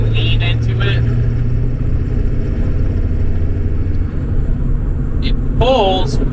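An OBS Ford 7.3 Powerstroke diesel pickup with a KC300X turbo and 160/30 injectors cruises in 5th gear at about 1,500 RPM and 40 mph, giving a loud, steady cabin drone and rumble with brief tonal whines over it.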